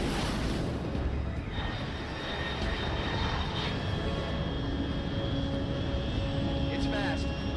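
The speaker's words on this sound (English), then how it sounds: "Control, unidentified aircraft detected." A fast high-altitude unidentified aircraft in the Metal Gear Solid Delta: Snake Eater game makes a steady, loud, continuous engine roar with a sustained whining tone throughout.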